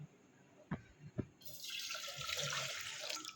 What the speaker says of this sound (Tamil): ஸ்டவ்வை ஆன் பண்ணி ஒரு சட்டியை வச்சு அதில் 1 டம்ளர் தண்ணி ஊற்ற போகிறோம்.